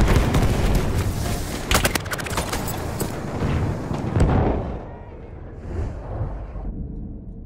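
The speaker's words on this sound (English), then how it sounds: "Une grenade." One loud grenade explosion booms up front and then rumbles away, with a second heavy thump partway through and a long tail that fades to near silence at the end.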